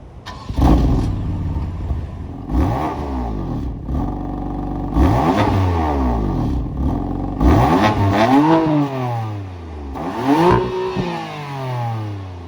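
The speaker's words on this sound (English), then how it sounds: "that was, of course, the sound of the 3-liter straight-six turbo engine sold by BMW" A BMW F82 M4's 3-liter straight-six turbo engine starts close by and revs repeatedly, pitch sweeping up and falling back in several rhythmic bursts over a steady idle.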